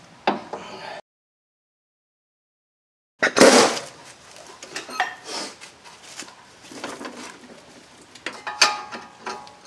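Close metallic ratcheting clicks in short bursts as a ratchet tightens bolts on the front strut assembly of a 2009 Honda Odyssey, with a brief silent gap early on, then irregular clicks and clanks continuing.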